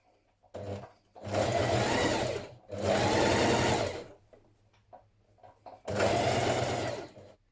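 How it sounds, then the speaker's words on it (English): A sewing machine runs in three bursts of steady rapid stitching, each a couple of seconds long with short pauses between, while top stitching close to the edge of a shirt pocket. "then we're going to top stitch close to the edge around here"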